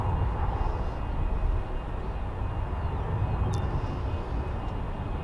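Embraer jet airplane at Charlotte Douglas Airport, arriving from Muscle Shoals, heard as a steady broadband engine roar that stays fairly loud and even throughout, with no talk over it.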